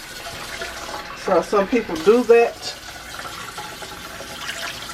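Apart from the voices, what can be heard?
water being poured into a slow cooker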